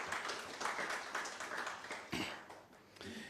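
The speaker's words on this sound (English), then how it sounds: "Please, let's give him another round of applause." Audience applause at a social protection and public finance management event: steady, moderately loud clapping from a crowd, dense and continuous throughout with no voices over it.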